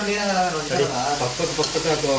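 Food sizzling as it heats in a pressure cooker while paneer masala is made at home, a steady close hiss with faint stirring and a voice talking over it.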